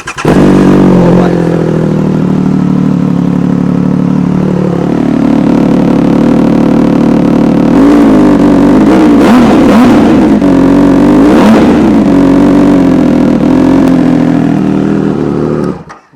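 A Triumph Speed Triple 1200 RS naked motorcycle fitted with a loud race exhaust idles and revs up and down close by, with sharp throttle blips and a sustained roaring engine note throughout.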